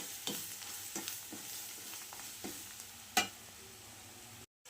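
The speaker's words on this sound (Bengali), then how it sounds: "পরিমাণ মতো হলুদ গুঁড়ো দিয়েছি, দিয়ে ভালো করে একসাথে বেশ লাল লাল করে ভেজে নিয়েছি" Prawns, onion, ginger, garlic and turmeric powder fry in oil with a soft, faint sizzle, punctuated by a few light clicks and scrapes of stirring, one sharper knock near the end.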